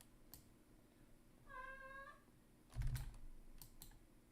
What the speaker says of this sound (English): My cat is crying in the background though.